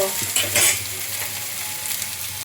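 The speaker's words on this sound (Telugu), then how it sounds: "బ్రౌన్ కలర్ వచ్చేంత వరకు ఉల్లిగడ్డలు వేగనివ్వాలి" Onions frying in a pan until brown for a homemade chicken curry produce a close, continuous sizzle with brief stirring scrapes and clatter near the start.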